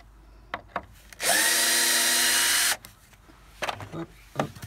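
A power drill unscrews a screw from a recycled-wood chicken coop, one loud continuous whirring burst of about a second and a half, close by, with brief knocks and handling noises before and after.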